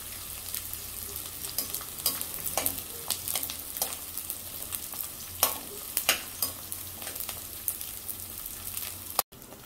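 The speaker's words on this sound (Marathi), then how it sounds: "आता आपल्याला लो फ्लेमवर डिंक तळून घ्यायचं आहे." Edible gum (dink) fries in ghee on a low flame with a steady soft sizzle and crackle, broken by scattered sharper pops and stirring scrapes.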